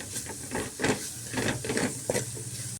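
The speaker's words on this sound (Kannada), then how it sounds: "ಹಾಗಾಗಿ ಇದು ಚೆನ್ನಾಗಿ ಮಿಕ್ಸ್ ಮಾಡ್ಕೊಳ್ತೀನಿ ನಾನು" Spoon stirring cumin and coriander powder into spinach gojju cooking in a pan, soft repeated scraping and stirring strokes over a steady sizzle, with no talking.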